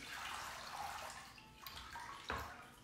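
Water splashes and trickles while lettuce leaves are rinsed in a small bowl in a home kitchen, a steady wash of soft running and dripping sounds with one sharper splash near the end, no voices.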